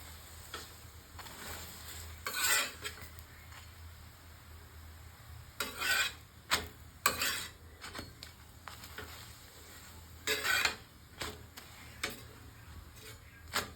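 A chapati cooks on an oiled pan and is pressed down at the edges, giving repeated short bursts of sizzling over a faint, low background hiss.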